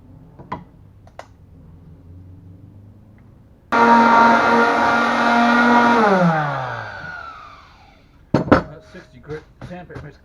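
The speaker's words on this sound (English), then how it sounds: "Sandpaper makes quick work of that." An electric tool works on an outboard engine stand during a restoration job: a loud steady whine runs for about two seconds, then winds down in pitch. Clicks and clatter come before and after it, and there is no talk.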